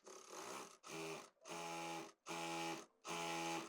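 A sewing machine runs in five short whirring bursts, stitching the seam of a twelve-panel kalidar palazzo, each run about half a second with brief stops between, close and steady, and nobody talks.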